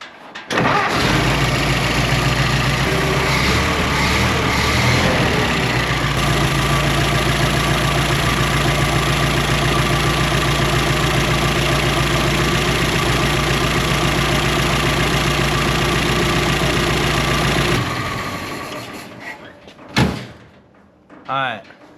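A 100-year-old Ford Model T engine cranks, fires and settles into a steady, loud idle close by for most of the stretch, then shuts off and leaves a few faint clunks.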